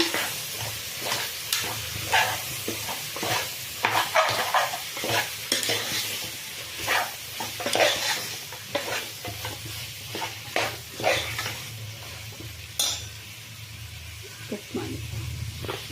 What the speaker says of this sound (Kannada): ಹೆಚ್ಚಿಟ್ಟಿರೋ ಟೊಮೆಟೊ ಇದನ್ನು ಒಂದು ಐದು ನಿಮಿಷ ಫ್ರೈ ಮಾಡೋಣ